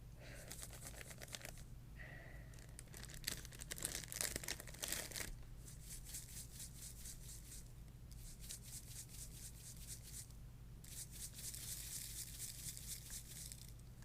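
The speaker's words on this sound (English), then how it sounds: "So the crinkly sounds that you were hearing was this bag" A plastic bag holding glitter is crinkled very close in a quiet ASMR setting, in soft bursts of dense crackling separated by brief pauses.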